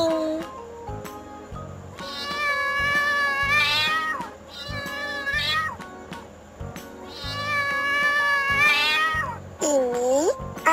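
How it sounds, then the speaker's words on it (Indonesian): A domestic cat meows repeatedly in long, wavering calls, loud and close, with a few shorter mews between them and no talking. "Ini kucing."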